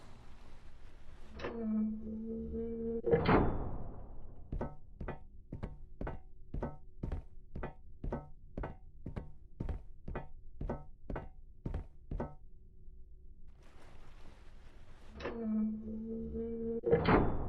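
A rapid series of sharp mechanical clicks and clunks, about a dozen in steady rhythm, bracketed by heavier metallic thunks and a low hum, as safety latches uncouple in the video game Return to Grace.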